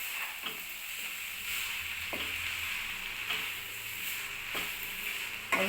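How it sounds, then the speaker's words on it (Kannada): Vermicelli being stirred and fried in a pan over high heat for shaverige uppittu, a steady close sizzle with occasional soft scrapes of a spoon, no talking. "ಸಾವಿಗೆ ಹಾಕಿ ಚೆನ್ನಾಗಿ ಮಿಕ್ಸ್ ಮಾಡೋಣ. ಉರಿ ಇವಾಗ ಜಾಸ್ತಿ ಇಟ್ಕೊಳ್ಳಿ."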